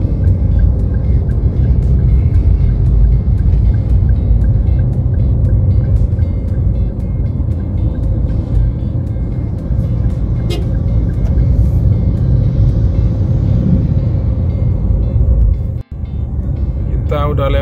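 Toyota Avanza G manual car driving on a road, a loud steady engine and tyre rumble heard from inside the cabin, with people talking over it and a brief thump near the end.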